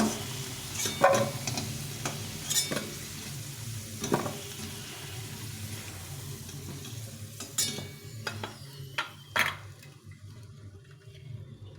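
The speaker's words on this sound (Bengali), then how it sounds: "এখন একটু তেল দিয়ে ফুলকপিটাকে ভেজে নেব" Oil sizzling steadily in a pan as cauliflower fries, with scattered clinks and stirring scrapes, close by, with no talking.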